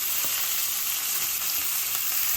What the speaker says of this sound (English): that's really nice browning going on there